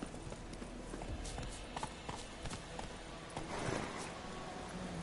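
Roach the horse running in The Witcher 3, with quick rhythmic hoofbeats clip-clopping steadily at a moderate distance and fairly quiet, under light ambient game sound.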